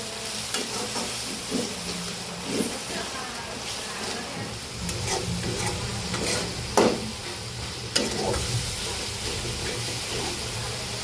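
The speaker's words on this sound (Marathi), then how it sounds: "सगळे घेतले एकच ताटात त्यात टाकते तेलामध्ये" Turmeric and mixed spices frying in hot oil while crab curry is cooked at home, giving a steady close sizzle and hiss with occasional stirring scrapes and a couple of sharper clinks.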